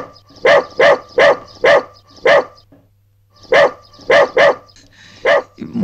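A dog barks loudly and close by in rapid bursts, four quick barks, a pause, then several more, alone with no talking.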